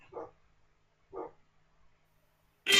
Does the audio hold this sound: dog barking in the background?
yes